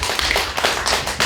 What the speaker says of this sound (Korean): 주변 사람들 학생들에게 큰 박수 한번 부탁드립니다